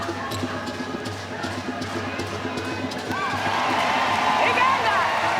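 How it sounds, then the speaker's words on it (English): Crowd roaring in an indoor arena during a Netball World Cup 2019 play-off final match between Zimbabwe and Uganda, a steady wash of cheering that swells louder in the second half, with commentary talking over it. "A roar from the crowd."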